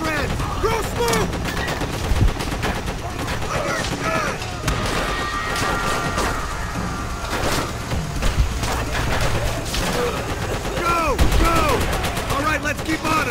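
Machine gun fire from the Call of Duty: World at War hill assault, dense bursts of gunfire and scattered explosions under shouted soldier voices, loud and continuous throughout.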